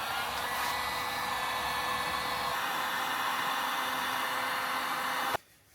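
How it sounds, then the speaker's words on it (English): A heat gun blows a steady, loud roar while shrinking wire splices during a dual condenser fan install on a Land Rover Discovery 2, running continuously before cutting off abruptly near the end. "let's shrink all of our splices with the heat gun."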